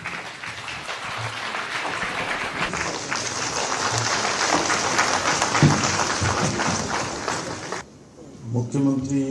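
Audience at a government event for a chief minister's solar self-employment scheme applauding, a broad wash of clapping mixed with a voice speaking over it, dropping off near the end before talk resumes.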